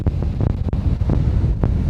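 Strong gusty wind buffets the microphone outdoors on a windy day in Saudi Arabia, a loud rumbling roar with irregular thumps, no speech.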